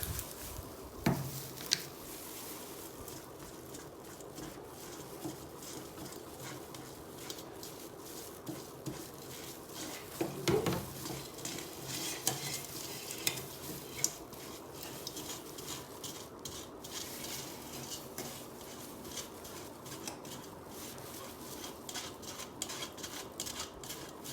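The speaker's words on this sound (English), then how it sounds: "we sieve everything together" Dry ingredients for a carrot cake, flour and baking soda, are sifted through a sieve: soft, faint rubbing and pattering with intermittent light taps and knocks against the bowl, continuing quietly for a long stretch.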